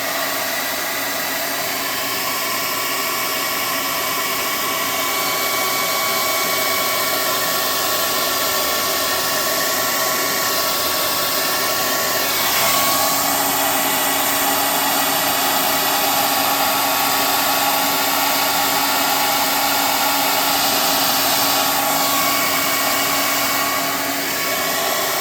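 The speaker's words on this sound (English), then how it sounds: "Let's get a hot air gun and see if we can't clean this up a little bit." A hot air gun blows steadily on a large tabletop miniature model, a loud continuous rushing whoosh held for the whole stretch with only slight shifts as the nozzle moves.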